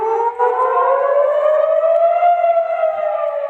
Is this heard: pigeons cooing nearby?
no